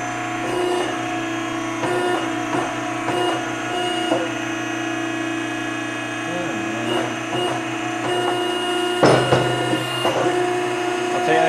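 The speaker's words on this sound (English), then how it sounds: "I'm going to punch the hole. I got 4 holes to punch." A 60-ton press punches holes in a metal ballast box, giving a mechanical whine with repeated sharp clunks and one heavier hit near the end, while people talk close by.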